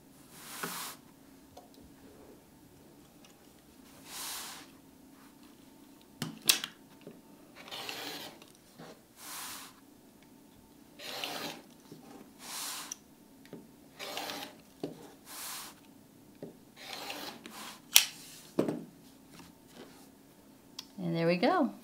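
Rotary cutter slicing fabric edges of a quilt block trimmed around a fan template, with repeated short rasping cuts in an irregular rhythm, faint and close, while a person talks throughout.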